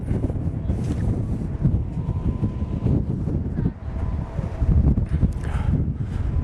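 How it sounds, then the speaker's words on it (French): Strong morning wind roars across a high glacier on Mont Blanc, a continuous loud buffeting rush against the microphone with gusty swells and no voices. "on va faire une image de l'ambiance de ce matin avec le vent qui souffle"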